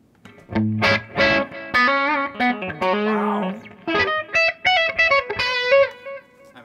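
An electric guitar runs through a delay pedal with spring reverb, playing a string of distorted melodic notes and chords whose repeats and reverb tails fill the gaps between phrases, loud and close.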